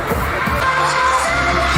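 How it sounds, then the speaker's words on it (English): A concert crowd at a stage performance cheers and screams loudly and continuously, a dense roar of many voices with music underneath. "And the crowd is loud."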